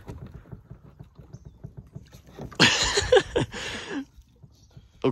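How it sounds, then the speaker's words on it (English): A 12-foot SunDolphin American jon boat flips over in water, giving a burst of loud splashing and sloshing for about a second and a half after quieter lapping, then the water settles. "here's a little boat flip test for you guys"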